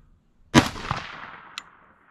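A single sharp rifle shot from a 22 ARC firing a 77-grain bullet during load testing, loud and close, followed by a rolling echo that decays over about a second and a faint click.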